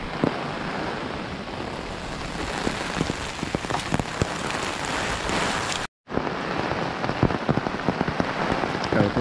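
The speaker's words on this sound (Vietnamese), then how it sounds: "Trời ơi, mưa to quá các bạn." Heavy rain pours down at a muddy site where a stuck cargo truck is being dug out. It makes a loud, continuous drumming hiss with dense droplet patter, broken by one brief cut to silence.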